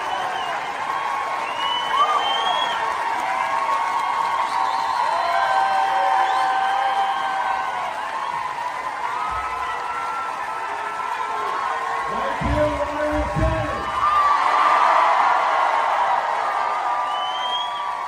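A large crowd at a Bernie Sanders rally in Iowa City cheers and applauds steadily, a dense roar of voices with whoops, swelling slightly near the end, with some low bumps underneath.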